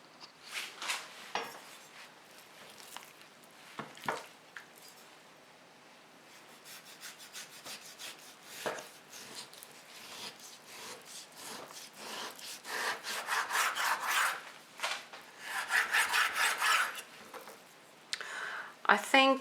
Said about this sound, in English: Now I will cut the meat